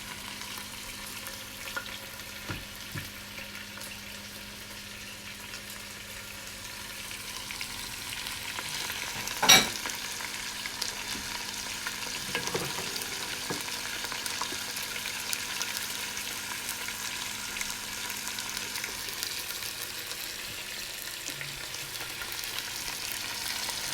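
Chicken pieces brown in a pot for a Puerto Rican chicken stew, giving a faint, steady sizzling hiss throughout with one brief clink near the middle and a few soft stirring sounds.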